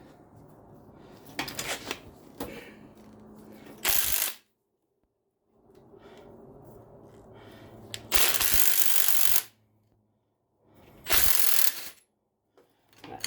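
Ratchet loosening rear strut bolts on a 2004 Oldsmobile Alero, bursts of close rapid clicking in several separate runs with short silent pauses between them.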